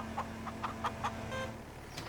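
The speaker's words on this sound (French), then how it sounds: "Tu vois, ça réveille les poules." In the Farming Simulator 25 video game, chickens cluck in a short run of five evenly spaced soft calls over a steady engine-like hum, followed by another lone cluck.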